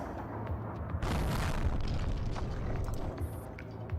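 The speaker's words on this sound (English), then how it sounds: "As a series of explosions engulf the platform below" A series of explosions engulfs a platform in the Girls' Frontline video game. A loud, roaring blast bursts in about a second in, then rolls into a sustained, rumbling, crackling wall of noise that lasts to the end.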